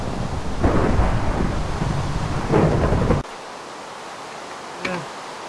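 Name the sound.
thunderstorm with thunder and rain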